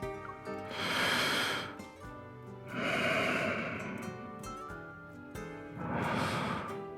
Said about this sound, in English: I hear Zayne's steady breathing behind my ear